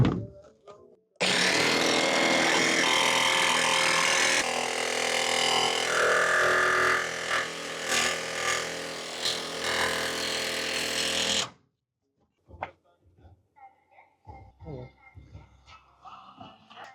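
A power tool cuts a skylight opening in the roof of a Crafter van, a loud continuous buzzing roar for about ten seconds that stops abruptly, followed by quiet clatter and handling noises.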